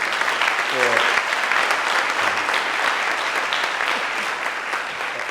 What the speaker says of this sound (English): Let's give them a round of applause and thank them